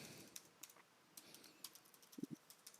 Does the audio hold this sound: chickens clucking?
no